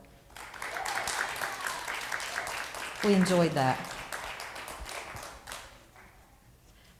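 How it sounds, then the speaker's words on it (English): An audience at a talent showcase claps for a performer, a dense burst of applause that swells in the middle and tapers off, with a voice speaking briefly over it. "Can you give another round of applause for Tony Marr?"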